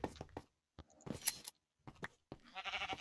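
Short sheep bleats from Minecraft, a few brief calls with gaps of silence between them and a longer noisy burst at the end.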